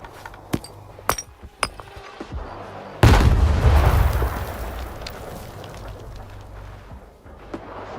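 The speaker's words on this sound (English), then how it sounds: "That was a great grenade." A grenade goes off in STALKER 2 as a single loud, low, rumbling explosion that follows a few sharp gunshot cracks. The blast rolls and decays over several seconds, then fades to quieter background noise.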